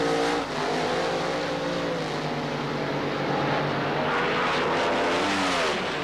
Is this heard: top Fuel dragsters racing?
yes